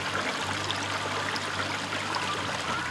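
A mountain creek runs beside a pavilion in the Smoky Mountains, making a steady, dense rushing wash that carries on evenly throughout with no voices.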